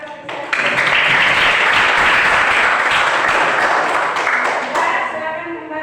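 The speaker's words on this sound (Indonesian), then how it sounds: "kita kasih tepuk tangan untuk apresiasi." Dense, sustained applause from a classroom audience after a group presentation on the excretory system, a loud wash of many hands clapping together that rises suddenly, holds for several seconds and then thins out.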